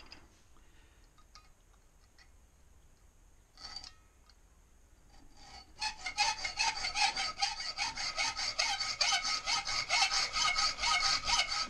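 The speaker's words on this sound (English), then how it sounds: "Trying to let the hacksaw do the work, not me." Hacksaw cutting a fishtail piece while making tank badges: after a quiet start with a few small knocks, rapid close rhythmic sawing strokes run steadily to the end.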